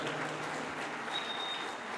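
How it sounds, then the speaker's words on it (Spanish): Church congregation applauding after a sermon, a steady dense wash of clapping filling the whole moment at moderate level with no talk over it. "Un aplauso a los hermanos"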